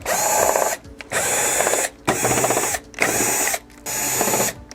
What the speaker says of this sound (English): now I'm going to be removing the screws on the back cover